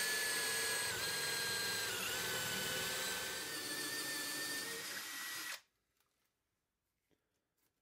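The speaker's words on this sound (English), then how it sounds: "I drill until I can see light through the bottom, and then to prevent blowout, I'll drill it from the other side." A power drill bores a dowel hole in wood with a loud, steady high-pitched whine that wavers slightly in pitch, then cuts off abruptly, leaving near silence.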